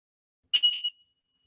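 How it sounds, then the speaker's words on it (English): A gong used in a guided mindfulness session is struck once, giving a single bright metallic ring that fades out within about half a second and is followed by silence. "as the sound of the gong is faded out"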